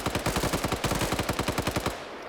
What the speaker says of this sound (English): fires while Ash is firing, and those gunshots got drowned out